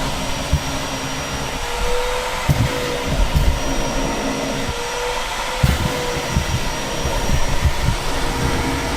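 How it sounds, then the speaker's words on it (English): A vacuum cleaner runs steadily at close range beside a rotted-out rotary pickup, a loud continuous whine with thumps and rattles as it sucks up debris. "There's a vacuum right next to you."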